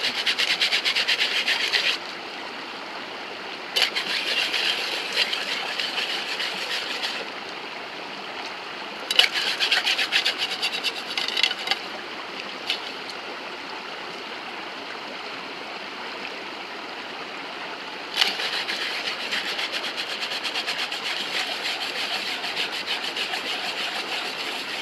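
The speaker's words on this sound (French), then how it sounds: "je vais essayer de nettoyer le fond de la popote avec un peu de sable qu'il y a au fond du petit torrent" A camping cookpot is scrubbed with coarse sand at the bottom of a small mountain torrent, giving bursts of gritty, rasping strokes that start and stop over the constant rush of flowing water.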